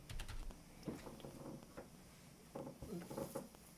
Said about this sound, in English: I'm typing in MLB.